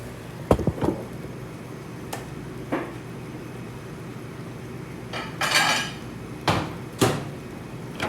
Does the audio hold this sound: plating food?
yes